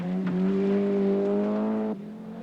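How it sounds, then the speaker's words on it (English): Hogland's class-winning Skoda rally car at the 1983 Arnold Clark Scottish Rally, a close engine note holding steady under load, then dropping sharply as the driver lifts off near the end. "A more conventional style is employed by Hogland in the class-winning Skoda"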